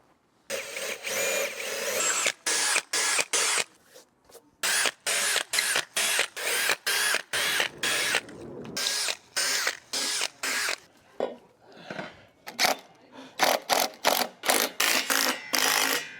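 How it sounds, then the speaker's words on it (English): A power drill pre-drilling deck railing holes runs in rapid repeated bursts, whirring on and off in quick succession for a long stretch, loud and close, with no speech. "and then marked it out for pre-drilling."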